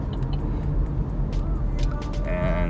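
A car idles and rolls nearby with a steady low rumbling engine, holding fairly even in loudness throughout, with no talking.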